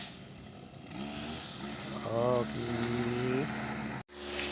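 A grass cutter runs indoors inside a house, a steady buzzing motor drone that surges and shifts pitch midway, continuous under brief talk before cutting out abruptly near the end and restarting.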